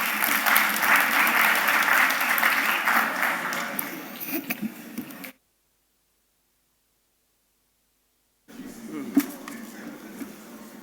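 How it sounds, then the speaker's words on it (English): An audience at a banking conference claps in a sustained round of applause, loud and dense at first and then thinning out before stopping, with a short burst of clapping or room noise returning after a silent gap. "Round of applause, please."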